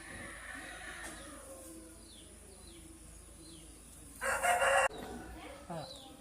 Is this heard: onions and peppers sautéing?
no